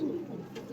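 Pigeons coo softly at close range, a short low murmuring burst with no talking over it.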